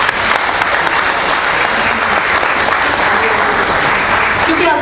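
A lecture-hall audience applauds in honour of a journalist, steady dense clapping that holds loud and even for about five seconds with no one speaking over it.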